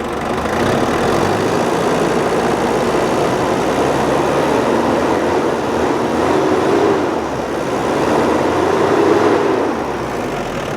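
A Mitsubishi Strada pickup's CD56 engine runs warm at a steady idle, a loud, continuous low mechanical drone with a faint periodic whine, close and alone for the whole stretch.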